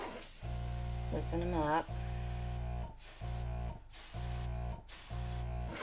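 Airbrush spraying acrylic paint for flower designs in a pour painting, a loud, steady hiss broken by short pauses, with a voice speaking briefly over it.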